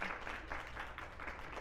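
A small group at a women's celebration gathering claps hands in a brief, fairly quiet patter of rhythmic applause lasting under two seconds.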